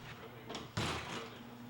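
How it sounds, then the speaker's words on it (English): A Wayne Dalton iDrive TorqueMaster garage door is set closing by remote, giving a sharp thump and a rush of mechanical noise over a steady low motor hum, nearby in a quiet garage. "Next, activate the door to the closed position with a remote control."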